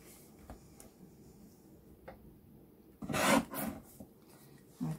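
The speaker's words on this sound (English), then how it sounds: "I'm going to trim the white bit off the end." A paper trimmer slices the white end off a foiled card, heard as a few soft clicks followed by one brief, close rasping slide of the blade and a final short scrape.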